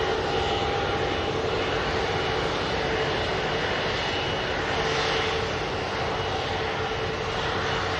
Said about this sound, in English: I've got this E2's halfway down the runway on my fly radar